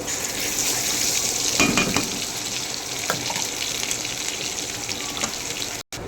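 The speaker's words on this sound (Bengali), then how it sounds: "মিক্সচার ধোয়া পানিগুলো দিয়ে দিয়েছি।" Water used to rinse a spice paste pours into hot oil in a frying pan, with a continuous hiss and sizzle that stays loud and steady throughout.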